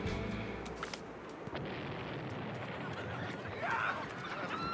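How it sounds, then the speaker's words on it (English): An explosion sound effect in a strategy video game: rumbling booms and bursts rolling through a low, noisy mix, with a faint tonal chime near the end. "Explosion sound into laughing is really like weird"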